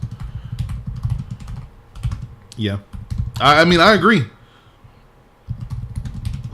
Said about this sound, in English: I'm typing in chat.